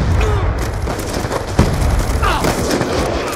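A single sharp gunshot cracks out mid-way through a steady roar of background noise.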